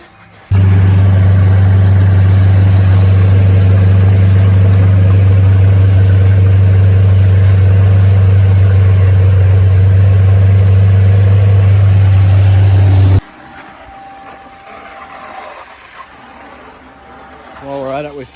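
A petrol engine, run to clear fuel through it after a trailer clean-out, drones loud and close at a steady idle-like hum for about twelve seconds, then cuts off abruptly, leaving quiet background.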